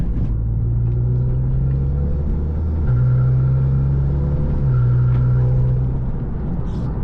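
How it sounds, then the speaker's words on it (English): A car engine accelerates in brief surges, each one a low rumbling rise in revs. The tone steps up partway through, and the sound is moderately loud and close, with no talking. "just had to do that, a little bit of acceleration"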